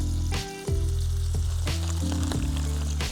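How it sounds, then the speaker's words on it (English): Burgers sizzle and crackle steadily in a hot pan over a tuna can burner, close and fairly loud, with low humming tones running underneath throughout. "It's a sizzling."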